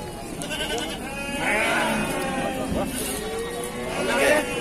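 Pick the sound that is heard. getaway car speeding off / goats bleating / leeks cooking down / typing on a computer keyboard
goats bleating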